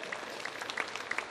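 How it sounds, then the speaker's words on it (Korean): A church congregation claps during a worship service, a brief, fairly faint patter of many hands heard from a distance. "여러분, 주님께 영광의 박수 다시 한번 돌려드립니다"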